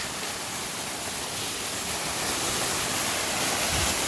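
Constant heavy rushing of the nearby Gelintülü Waterfall near Ayder Plateau in Rize, Turkey, a thick unbroken roar that fills the whole scene without voices.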